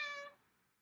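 A single faint, high kitten meow from young foster kittens being held indoors, brief and tapering off quickly into quiet.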